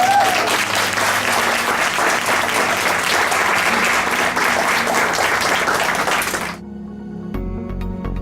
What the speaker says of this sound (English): So I think a round of applause.